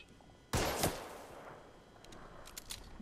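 A single sharp gunshot blast cracks out in The Order: 1886, followed by a fading tail and a few faint scattered pops in the background.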